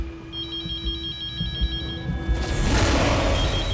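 A telephone ringtone trills in a repeating electronic pattern for about two seconds at moderate loudness, then gives way to a broad rustling, shuffling noise that builds toward the end.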